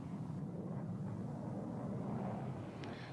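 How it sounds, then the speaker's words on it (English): Attack planes flying over Vietnam give a steady, loud low roar and rumble that holds unbroken throughout, with no voices. "Over 40 types of attack planes are constantly over Vietnam."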